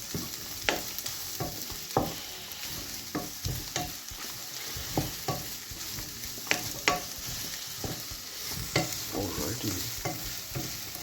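Sausages, salami and onions frying in a pan, a steady close sizzle broken by repeated scraping stirs of a utensil, with a brief word spoken partway through.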